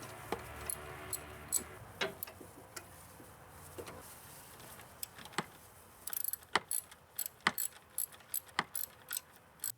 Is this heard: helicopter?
no